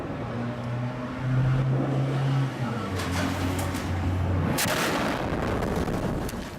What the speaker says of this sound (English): Bombs are dropping again on East Aleppo.